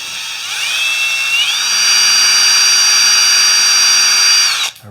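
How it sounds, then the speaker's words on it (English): Power drill boring out 1/8 inch rivets on a Yamaha Banshee two-stroke quad build, a steady close high-pitched whine that rises in pitch early on, holds for several seconds, then cuts off abruptly. "So I'll just drill the 1/8 inch rivets out."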